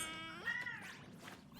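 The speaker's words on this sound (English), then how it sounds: "She just meowed again." A pet cat named Tatsumi gives a single clear, rising meow up close in a quiet room, the call sliding upward and trailing off over about a second.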